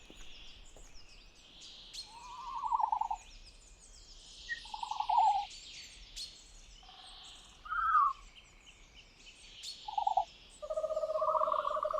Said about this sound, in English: That's the call of Dilophosaurus weatherilli.